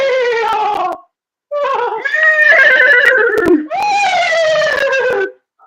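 A person's voice imitates a horse whinnying, giving three loud, close, wavering neigh-like calls separated by short pauses, the middle one rising into a shrill squeal before breaking down.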